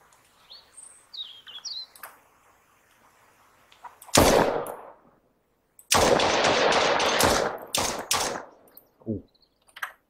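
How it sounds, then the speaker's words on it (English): Enemy gunfire erupts in the video game Mist Survival, with short bursts and a long loud rattling volley of rapid shots breaking through quiet stretches of chirping birds. "They're shooting at me."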